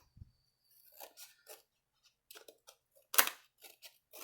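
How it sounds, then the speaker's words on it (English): Scissors snip through paper corners for a recipe album, giving a handful of close, crisp cuts in uneven bursts separated by quiet gaps, with one louder, sharper snip near the end. "Okay, so we're just going to cut like that."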